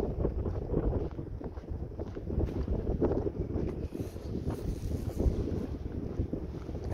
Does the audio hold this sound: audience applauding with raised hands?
no